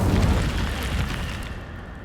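Incendio fire spell cast in Hogwarts Legacy, a short loud whooshing burst of flame that starts strong and fades out over about two seconds, with no talking.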